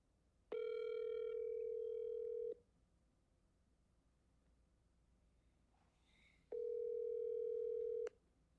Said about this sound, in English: I just got to make a phone call.